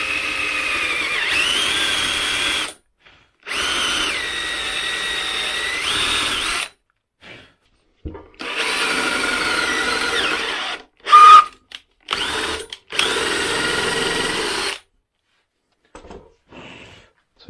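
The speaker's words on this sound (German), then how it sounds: "Auch hier bohren wir jetzt mit dem Bohrer 22 mm rein." A drill boring 22 mm holes into an old wooden construction plank being made into a coffee table, whining in several close, loud bursts of a few seconds each, separated by short pauses.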